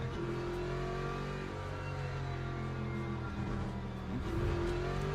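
Porsche RSR race car in Le Mans Ultimate, its engine droning steadily with shifting pitch as it passes close by, loud and continuous.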